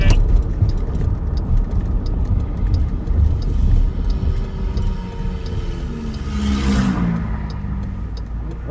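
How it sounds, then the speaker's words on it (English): Car with a missing catalytic converter passing on a town street: a loud, raspy exhaust rumble that swells as it revs by close, over steady background traffic noise, with no talk. "Her car sounds like somebody got her catalytic converter."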